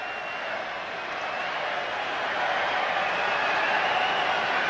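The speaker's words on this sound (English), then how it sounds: "Crowd making a lot of noise." A large swimming crowd at the 2000 Olympic men's 100m backstroke final roars in a continuous wash of cheering that grows slightly louder toward the end.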